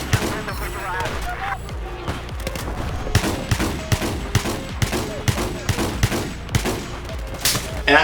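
Gunfire from the video game Battlefield 4, a dense, loud stream of rapid shots and bursts that runs through the whole stretch over a busy in-game mix.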